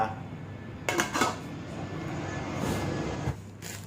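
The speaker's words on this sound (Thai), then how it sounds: "ปิดฝา" A pot lid clatters shut during home cooking of a Thai sweet-leaf curry with grilled fish and red ant eggs, two quick metallic clinks close by over a low steady kitchen hum.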